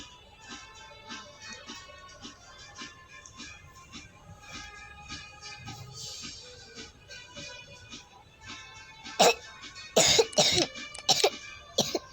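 A woman coughs in a close, loud burst of several hacking coughs near the end, following a long stretch of quiet rustling with faint tonal background sounds.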